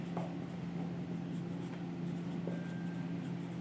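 Continuous hand writing on paper during an accounting lesson, a steady close scratching that runs the whole time over a constant low room hum.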